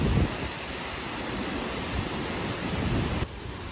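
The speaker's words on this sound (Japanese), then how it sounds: "ミソルハの滝に到着しました。" Misol-Ha waterfall in Mexico, with a drop of about 25 m, gives a steady, dense rushing roar with no pauses, loud and close, with a brief dip near the end.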